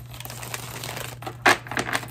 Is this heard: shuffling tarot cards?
yes